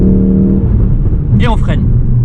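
A 2016 Ford Focus RS Performance with four-wheel drive accelerates, its engine droning loud and close from inside the cabin while someone talks excitedly over it.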